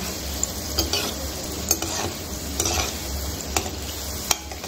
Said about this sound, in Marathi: सारखं असं करत राहायचं, म्हणजे गुलाबजाम सगळ्या बाजूने तळून निघतो